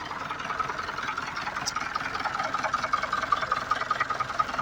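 A motor runs steadily as a water tank fills, a constant mid-pitched mechanical drone with a faint rhythmic rattle and no voices.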